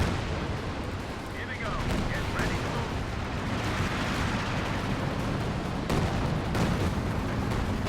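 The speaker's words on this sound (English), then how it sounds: "More Stuka or Calliope rockets firing." Stuka or Calliope rocket artillery in a Company of Heroes 2 4v4 battle, a dense continuous roar of launches and distant impacts layered over steady battlefield noise, with sharper cracks standing out.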